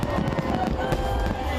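New Year's Eve fireworks over Brisbane crackle and boom in dense rapid bursts, a loud continuous barrage heard from the city.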